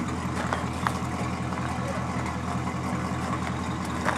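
A 1961 Rambler idling with its exhaust, a low, even, rhythmic engine burble that stays steady throughout, not especially loud.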